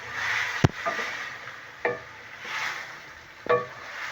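Chopped vegetables, including cabbage, potatoes and carrots, are stirred in a cooking pot for vegetable biryani, with three distinct scraping knocks of the spoon over a soft background hiss.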